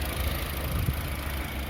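A Hyundai ix35 with the G4KD engine idles after an overhaul, now warmed up, giving a steady low hum with a faint, even rumble and no voices.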